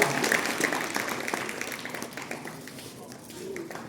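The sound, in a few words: audience applause at Republic Day school event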